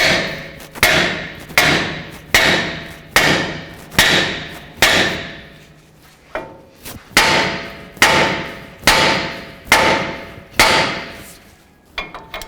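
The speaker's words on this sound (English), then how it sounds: "strike the knuckle here and here so we can go ahead and pop those tie rod ends" A hammer strikes a Jeep Wrangler steering knuckle to pop the tie rod ends, giving about fourteen loud, ringing metallic blows in a steady rhythm, with a short pause partway through.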